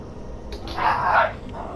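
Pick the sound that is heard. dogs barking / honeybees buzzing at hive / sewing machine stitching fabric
dogs barking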